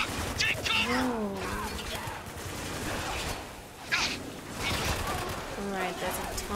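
Heavy gunfire in a Spec Ops: The Line firefight, rapid bursts and cracking impacts mixed with crashes, while soldiers shout over the shooting.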